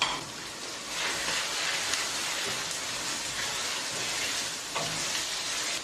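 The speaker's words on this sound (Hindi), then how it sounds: "अब इसमें उबला हुआ कीमा भी डाल लें और उसको भूनना शुरू कर दें।" Boiled minced meat sizzles and crackles steadily in a hot pan, a dense, close frying hiss with occasional stirring scrapes.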